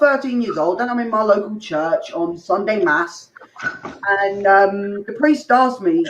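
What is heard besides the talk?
None of the usual background noises is heard.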